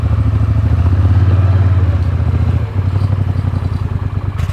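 Motor vehicle engine running loud and close as it drives off to collect paving slabs, a steady pulsing drone that shifts in pitch partway through, with no talk.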